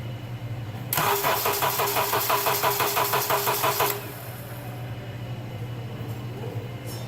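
The starter of a 2005 Honda Accord with a suspected voltage drop cranks the engine in a steady rapid churning rhythm for about three seconds, then stops, leaving a low hum.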